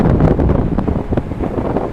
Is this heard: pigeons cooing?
no